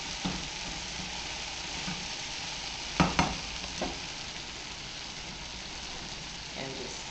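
Basil stirred into sautéing African eggplant in a pan, giving a faint, steady sizzle with a few brief clatters of the utensil against the pan, quiet and close, without speech.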